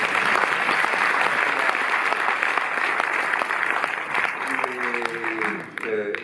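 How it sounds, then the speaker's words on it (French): Audience applause at a Cinémathèque retrospective opening in Paris, a dense sustained clatter of many hands filling the room throughout, with a voice briefly audible near the end. "Et on l'applaudit. Mais on l'applaudit."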